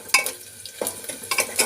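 Onions frying in a pan, a quiet background sizzle punctuated by several sharp spatula scrapes and clinks against the pan, unevenly spaced, with no talking.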